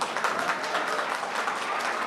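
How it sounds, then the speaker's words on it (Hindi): An audience in a college hall at a polytechnic farewell reception breaks into dense, continuous applause for the principal and professors, many hands clapping together at an even loudness with no voices over it. "साथियों, एक बार जोरदार तालियां हमारे सम्माननीय प्राचार्य महोदय एवं यहाँ उपस्थित प्रोफेसर्स के लिए।"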